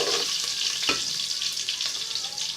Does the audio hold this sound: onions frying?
yes